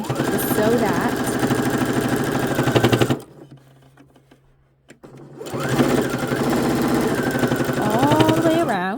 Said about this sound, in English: And then we're just going to sew a back stitch and then just sew that down.